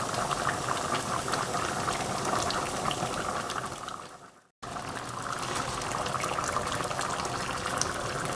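Chicken livers boil vigorously in a pan, a dense continuous bubbling and hissing that stays loud and close throughout, with one brief dropout midway.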